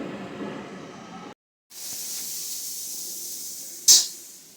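Bitter gourd (karela) dry-roasting on a tawa pan, a steady close hiss that stops briefly and then returns, ending in one sharp bright crackle.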